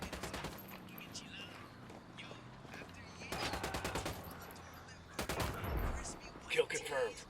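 Bursts of automatic gunfire in Ghost Recon Wildlands, a tactical shooter played on PS4: rapid volleys come in two dense clusters with sporadic single shots between them, over a constant game background.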